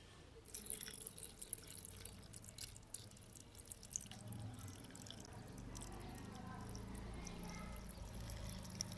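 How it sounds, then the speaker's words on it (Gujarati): Water is poured into a jar holding pineapple pieces, starting with a few splashy drips and settling into a soft, steady trickling stream. "અને ચાલો આપણે એની અંદર પાણી ઉમેરી દઈએ।"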